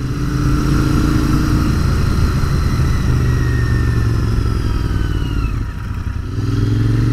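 A 2019 Royal Enfield Interceptor 650 motorcycle engine runs loud and close with a steady, throaty drone, holding an even pitch before briefly easing and picking back up, with no voices over it.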